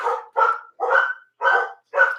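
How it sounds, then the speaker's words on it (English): Dogs bark at a knock on the door indoors, five loud close barks in an even rhythm with short gaps between them. "someone's at the door and the dogs are barking"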